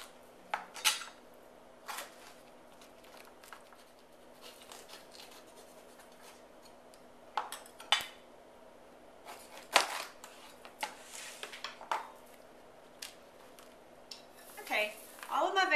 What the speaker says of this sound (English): take the stems off and cut them in half and lay them cut side down on my baking sheet